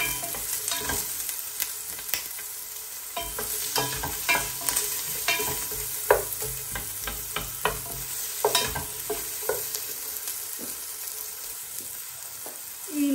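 Chopped onions fry and sizzle in a hot pan, a steady crackling hiss broken by frequent scraping stirs from a utensil, close and fairly quiet, with no talking.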